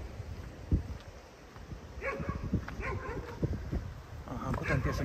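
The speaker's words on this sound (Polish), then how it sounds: "bo ten piesek przechodzi, to tamten szczeka" A dog barks and yips repeatedly near a stone bridge, in short irregular bursts at moderate distance, with people talking over outdoor background noise.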